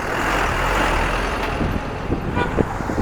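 Traffic on a mountain road on a Delhi to Ladakh road trip, with vehicles rumbling past nearby and a truck horn tooting briefly near the end, heard without talk.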